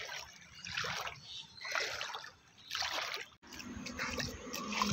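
Repeated sloshing splashes, roughly one per second, like steps wading through knee-deep floodwater in a field, fairly close with brief pauses between strides.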